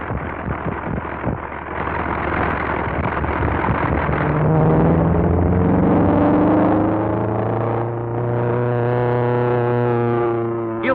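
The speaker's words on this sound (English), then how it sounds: "Sounds like he has engine trouble." Vintage propeller plane engine running rough with trouble, a steady droning hum with wavering, rising pitch that swells and holds, heard alone and fairly loud throughout.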